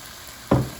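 Rice for arroz con gandules hits hot sauce in a pan with a single sharp sizzle that flares suddenly after a quiet moment, then fades over a fraction of a second as it is stirred.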